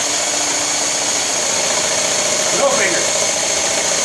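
A homemade spindle sander runs steadily with a continuous motor hum and slight vibration, close and fairly loud, while someone talks over it.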